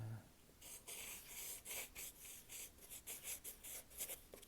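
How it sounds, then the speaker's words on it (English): A pencil scratches cursive handwriting across paper at close range, quietly, in short strokes with brief pauses between letters and words. No one speaks. "Let's see if I can write cursive."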